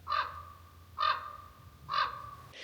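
A raven gives three harsh, croaking caws at even intervals, with a fourth starting at the end. The calls come from a moderate distance in quiet forest surroundings.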